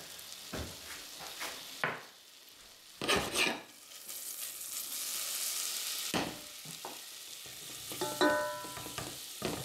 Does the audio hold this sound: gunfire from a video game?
no